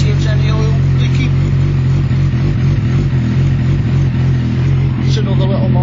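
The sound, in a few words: Suzuki Bandit 1200 motorcycle engine on test ride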